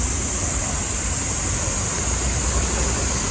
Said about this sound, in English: It's the water fountain they have it.